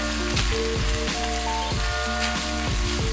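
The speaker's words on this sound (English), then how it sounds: "Keep that heat on high. Now our beef is almost fully browned." Ground beef browns on high heat, broken into small pieces for a manicotti stuffing, giving a loud continuous sizzle with rhythmic scraping and stirring strokes over a steady low hum, close and without talk.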